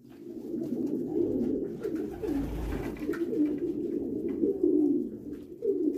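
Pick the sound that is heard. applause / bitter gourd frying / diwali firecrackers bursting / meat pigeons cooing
meat pigeons cooing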